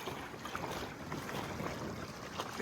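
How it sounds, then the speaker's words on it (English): Wind in the sail of a small sailing boat on a reservoir, a steady soft rushing and buffeting with faint flaps and water noise, low and continuous with no talk. "bit of wind in the sail."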